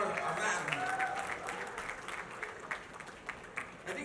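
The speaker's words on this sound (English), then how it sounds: "I'd like to hear a round of applause for our man." Round of applause from a press conference crowd welcoming Salman Khan at an ISRL 2025 launch event, clapping mixed with people talking and a few sharp individual claps.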